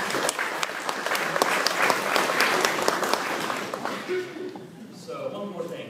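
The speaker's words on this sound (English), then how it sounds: "So give yourself a round of applause." Audience applause at a museum lecture on Southeastern Native Americans, a burst of dense clapping that fades after a few seconds as quiet voices take over.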